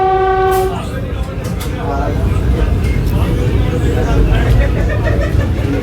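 A Vande Bharat train runs through Handia railway station, its horn sounding loudly at the start and then giving way to a continuous close, heavy rumble of wheels on track.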